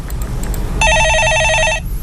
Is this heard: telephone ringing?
yes